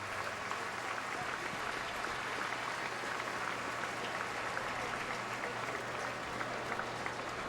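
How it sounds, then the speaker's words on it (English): The Wrigley Field crowd at a Giants–Cubs baseball game applauds an injured player walking off, a steady, dense wash of clapping from a large stadium audience lasting several seconds, with faint voices mixed in. "Gets a nice hand from this Wrigley Field crowd"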